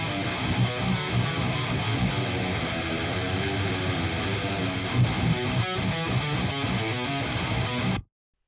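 Heavily distorted metal rhythm guitars, doubled left and right through 6505 and 5150 amp presets, chug in a dense, loud, continuous wall of sound before cutting off abruptly.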